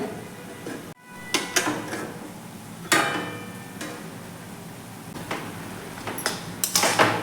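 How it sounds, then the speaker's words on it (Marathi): Metal lid lifted off a cooking pan of steamed radish vegetable in a home kitchen: sharp clanks and knocks of utensil against pan, several distinct hits spaced across a quiet room background. "आपण एकदा झाकण काढून चेक करून पाहूयात"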